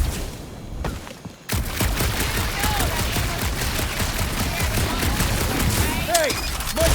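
Bursts of gunfire from the video game Guardians of the Galaxy rattle on almost without a break in a rapid, dense volley after a brief quiet start, with voices faintly present under the shooting.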